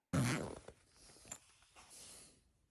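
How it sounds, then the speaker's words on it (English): A bag zipper is pulled shut in one quick, loud zip near the mic, followed by fainter rustling and handling of the fabric bag holding a record-flattening heater. "Then we zip up the bag."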